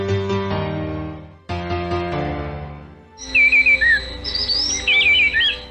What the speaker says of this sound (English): how about the wood wren song that sounds like Beethoven's Fifth?